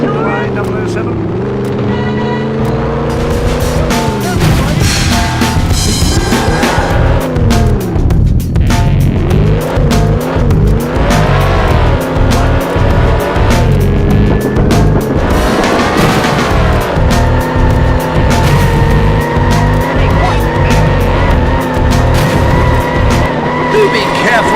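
A BMW Z8 races in the PlayStation game 007 Racing, its engine revving up and down through gear changes with tire squeals and skids, loud and continuous throughout, with a voice speaking over it.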